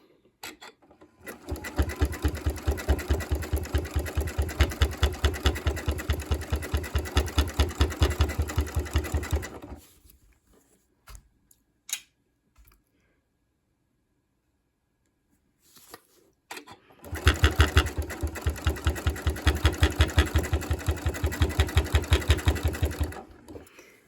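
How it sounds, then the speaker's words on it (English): A sewing machine runs a decorative wavy top stitch along quilt binding, two loud continuous bursts of rapid rhythmic stitching separated by a quiet pause with faint handling clicks. "you'll just keep sewing and removing those clips as you go"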